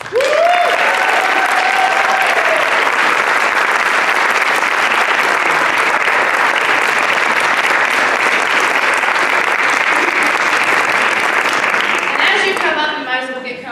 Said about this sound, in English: I want to give a big round of applause to Mr. Phil Thomas.